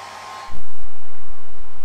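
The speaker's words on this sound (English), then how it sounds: "you've got to use a hairdryer to heat them up and make sure the glue sticks" A hairdryer blows hot air while heating motorcycle tank panels so the glue sticks, switching on or stepping up to a steady, loud whooshing roar with a constant motor hum, no talk over it.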